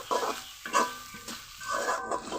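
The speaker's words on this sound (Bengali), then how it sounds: "এখন দিয়ে দিব কিছুটা ধনে পাতা কুচি। ভালো করে নেড়ে মিশিয়ে নিব।" Chicken filling being stirred in a pan with chopped coriander: soft scraping strokes of a spoon in a rhythmic series over a quiet sizzle, close and fairly faint, with no talking.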